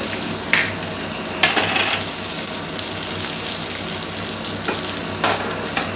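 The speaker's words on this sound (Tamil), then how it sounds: "வெங்காயம் போட்டு நல்லா வதக்கிடணும்" Chopped onion sautés in hot oil with mustard seeds and cumin, giving a loud, close, continuous hiss. A few short bursts of spatter and stirring clatter rise out of the steady frying.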